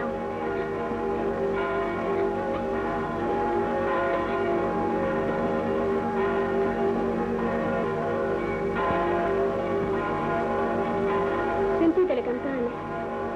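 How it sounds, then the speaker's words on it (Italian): Church bells ring at a distance behind a rural outdoor scene, their tones layered and sustained for several seconds, with faint voices and a brief louder rustle near the end. "Sentite le campane. Perché suonano?"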